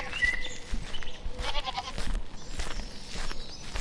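A goat given as a gift in a village bleats in short bursts amid noisy, busy background sound, fairly loud and close throughout.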